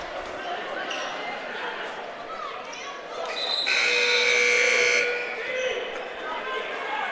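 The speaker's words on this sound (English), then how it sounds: "Buzzer going off quite a bit." A long, loud buzzer blares for about a second in a gym during a boys' basketball game, over crowd noise, squeaking shoes and an announcer talking.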